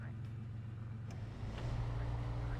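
Truck engine in the video game SnowRunner, a low, steady rumble that swells louder partway through as it drives on, with someone talking over it.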